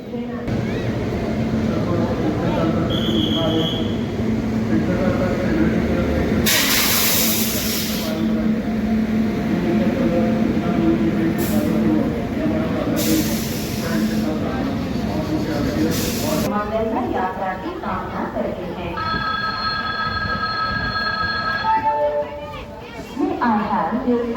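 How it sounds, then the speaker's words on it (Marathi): The Gol Express rolls into platform one in heavy rain, a sustained rumble and hiss of wheels and downpour with bursts of spray, a horn-like tonal sound near the end and people chattering. "जबरदस्त पावसामध्ये गोल एक्सप्रेसचं प्लॅटफॉर्म नंबर एकवरती आगमन होत आहे"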